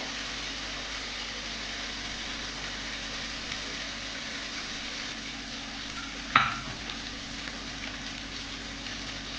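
Spices sauté in hot oil for a Bengali boal fish curry, a soft steady sizzle with light stirring and a single sharp clink of a utensil against the pan.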